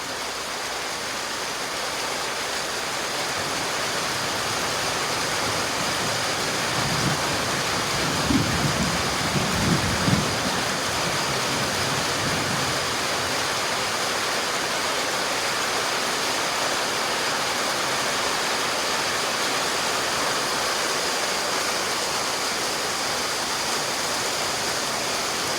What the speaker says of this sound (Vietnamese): Trời mưa to mưa nhiều